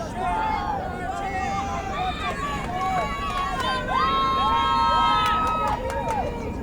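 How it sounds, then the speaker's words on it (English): At a high school boys' soccer match between Port Chester and Mamaroneck, a spectator crowd chants in unison for the Tigers, voices rising and falling over a continuous murmur of background crowd noise. "A "Let's Go Tigers" chant"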